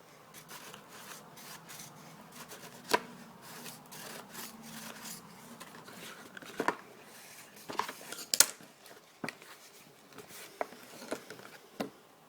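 Paper burnished down by hand while assembling a mini magazine holder: soft, quiet rubbing and scraping strokes with a few sharper taps, close by, no talking.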